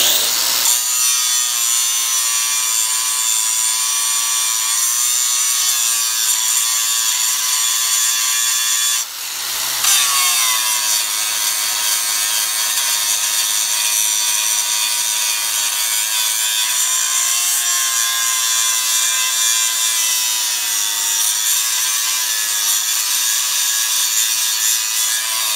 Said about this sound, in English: The grinder is bogging, but it's just simply because the wheel bites so hard.